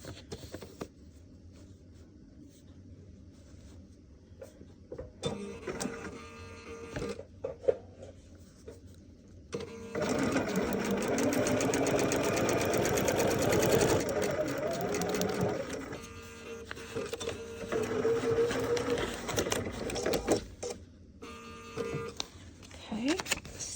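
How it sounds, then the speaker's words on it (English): A sewing machine stitches red fabric for a stocking in several runs, short bursts early on and then a longer steady whirring stretch, close up, with a voice talking over parts of it. "see how I sewed past that line?"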